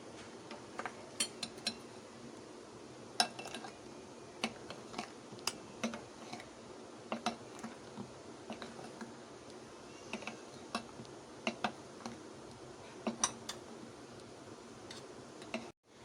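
Cake batter for a pineapple cake being mixed by hand while flour goes in bit by bit, with sharp, irregular clicks and taps of a spoon or whisk against the bowl over a quiet background.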